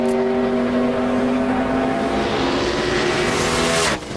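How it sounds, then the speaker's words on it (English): A NASCAR Sprint Cup race car on a qualifying lap at Texas in 2008 roars steadily at high revs, a loud sustained engine drone that cuts off abruptly near the end. "And let's see what this one car, Martin Truex Jr., can do."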